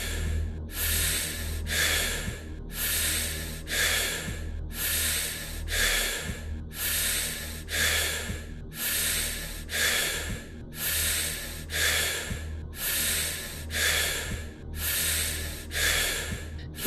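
Rapid, forceful deep breathing in a guided breathwork meditation session, with about a dozen close, airy inhale-exhale cycles repeating steadily over a low background drone.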